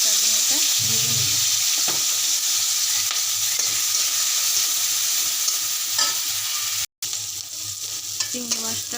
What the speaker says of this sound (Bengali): এখানে আমি কচুরমুখীটা চিংড়ি মাছ দিয়ে রান্না করি, তার জন্য এটা ভেজে নিই